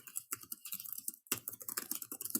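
Typing on a computer keyboard, quick irregular clusters of close, crisp key clicks with a brief pause midway, then a faster run of taps.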